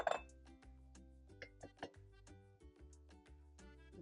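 A spoon clinks against a dish as cream of mushroom soup is stirred with a little water for a chicken broccoli casserole. The taps are faint and scattered over a soft, steady tonal background.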